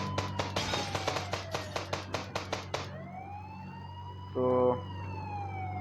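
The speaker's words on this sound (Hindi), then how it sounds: "कहीं से पुलिस की आवाज़ आ रही है गाड़ियों की" Police car siren in a video game: a run of sharp, rhythmic bursts gives way to a loud, rising and falling electronic wail, with a short buzzing tone near the end and one brief spoken word.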